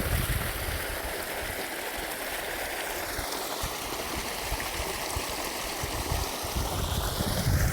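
Steady rushing irrigation water flows continuously into a chickpea field for several seconds, a close, full-bodied wash with no voices over it.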